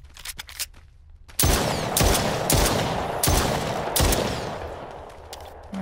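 Gunfire in the PSVR horror shooter The Brookhaven Experiment: a few faint shots, then a run of five or six loud, evenly spaced booming blasts with decaying tails, close and alone.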